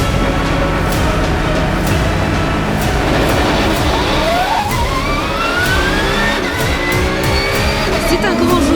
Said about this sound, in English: The moment the lights turn off, I'm releasing the clutch, the car starts moving, and I'm ready to hit the track with my 911